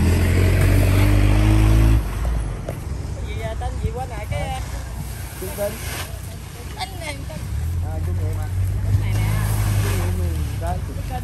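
A large wooden cargo boat of about a hundred tonnes runs its engine, a loud, steady low droning hum that is strongest at the start and returns near the end, while people talk over it.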